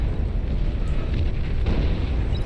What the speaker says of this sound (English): The power of a movable long-range plasma cannon, I mean, it's absolutely tremendous.